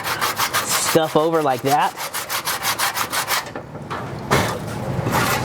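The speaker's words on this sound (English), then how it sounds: "If you use a Scotch-Brite or a roll-lock pad like this, you can" Scotch-Brite pad rubbed back and forth over the metal of an MGB front fender panel during repair, a steady rhythmic scrubbing close up with a brief spoken voice near the start.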